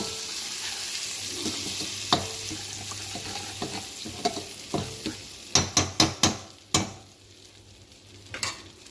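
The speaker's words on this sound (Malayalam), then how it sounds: "ഒരു ചെറിയ ടീസ്പൂൺ മുളക് പൊടി പിന്നെ ആവശ്യാനുസരണം നമുക്ക് ഉപ്പിടാം ഇതൊന്ന് നമുക്ക് വഴറ്റിയെടുക്കാം" Cauliflower masala sautéing in a pan with chili powder and salt, with a soft steady sizzle under intermittent spoon scrapes and knocks that grow sharper and more frequent toward the end.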